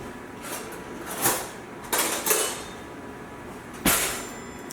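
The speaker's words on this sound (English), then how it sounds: "And you're going to spread the butter." A table knife scrapes butter across a slice of bread for garlic bread, making a few short, close, rasping strokes with quiet gaps between them.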